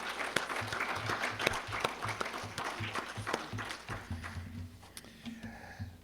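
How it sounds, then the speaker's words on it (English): Audience applause at a bioeconomy forum, a steady wash of clapping from a conference crowd, with a faint rhythmic thumping underneath that fades toward the end. "Let's all give Sid Higa a round of applause for managing all of the technology here"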